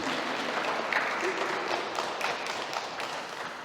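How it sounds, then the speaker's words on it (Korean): A church congregation applauds loudly during a Sunday worship service, steady dense clapping filling the whole stretch without letup. "우리 영광의 박수 한번 크게 치겠습니다."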